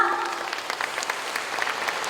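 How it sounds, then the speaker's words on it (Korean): Audience applause fills the space after a Hahoe Byeolsin Gut mask dance performance at the opening ceremony of a UNESCO heritage conference, a steady wash of many hands clapping at moderate volume. "다시 한번 고생해주신 하회 별식 구탄놀이 또 고전에게 다시 한번 큰 박수 부탁드립니다."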